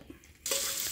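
Hot oil tempering for homemade tomato chutney bursts into a loud sizzle about halfway through, following a quiet start, and keeps hissing steadily to the end.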